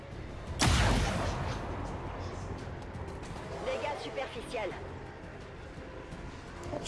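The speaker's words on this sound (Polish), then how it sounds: "Ten strzał był trochę słaby." A single sharp, loud gunshot-like blast near the start, followed by a low rumbling tail and faint mechanical clicks in a noisy game soundscape.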